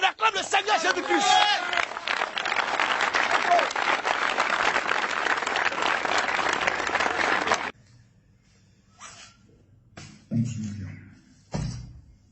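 Church congregation applauding at a worship service, a dense loud burst of clapping lasting several seconds that cuts off abruptly, followed by quieter scattered knocks and murmurs of the room.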